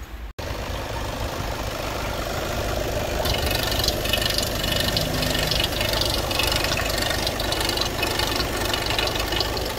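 A 2017 Audi A3 diesel with a six-speed automatic idles steadily, a continuous low engine hum with a faint knocking rattle that holds even throughout, heard alone with no talking.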